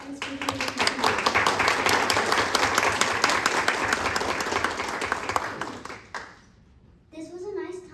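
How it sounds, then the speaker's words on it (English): A school board audience claps loudly and steadily for about six seconds before the applause fades out, followed by a brief moment of quiet and then a voice speaking. "If we can give them all a round of applause for their hard work and speaking with the community."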